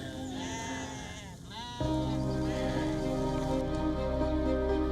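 Sheep bleating at a refugee settlement in Bangladesh, several wavering calls close by over a steady background hiss like rain, with one louder bleat partway through.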